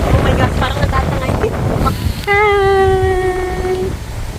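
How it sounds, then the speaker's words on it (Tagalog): Powerful mountaintop wind batters the microphone in a continuous low, blustery roar, with voices speaking and a sustained tonal whistle rising above the gusts partway through. "Sobrang lakas ng hangin."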